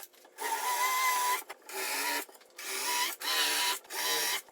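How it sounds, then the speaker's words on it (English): Several bursts of a power drill with a Forstner bit boring a screw recess into wood, each lasting about a second with short pauses between, a whirring grind close to the listener. "Using a Forstner bit at first, make a recess for the screws to sit in."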